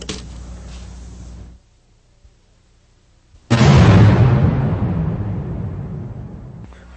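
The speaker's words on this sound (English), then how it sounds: "We're ready to spray." An Iwata LPS-2 spray gun lays a medium coat of automotive paint, a sudden loud, broad hiss of air and atomized paint that starts abruptly and holds steady for several seconds before easing off, following a quieter stretch of low noise.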